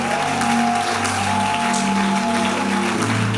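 A church congregation at worship applauds and cheers the Lord in a dense, continuous wash of clapping that stays loud and even throughout, with voices and sustained musical tones ringing beneath it.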